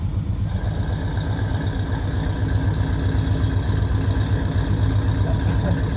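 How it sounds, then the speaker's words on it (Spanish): A car engine idles with its exhaust cutout open, a loud, steady, deep rumble that runs unbroken and close-up, with no voices over it. "solamente el ralentí cómo cambia."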